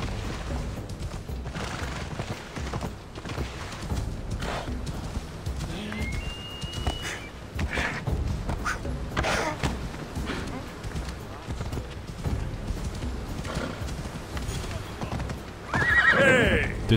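A horse gallops with steady, rhythmic hoofbeats and neighs in the video game Assassin's Creed Odyssey, the pounding running throughout at close range, with game effects and a voice intermittently on top.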